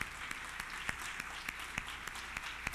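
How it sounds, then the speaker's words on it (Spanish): Church congregation applauding for the Lord, a quiet, distant wash of clapping with a few sharper individual claps standing out. "Un aplauso al Señor bien fuerte."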